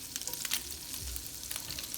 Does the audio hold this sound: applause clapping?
no